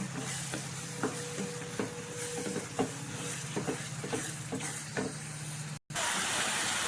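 Masala frying in oil for egg curry, a steady, fairly loud sizzle running throughout, with light scraping and tapping from stirring and no talking.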